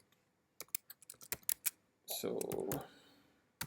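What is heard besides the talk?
typing on a computer keyboard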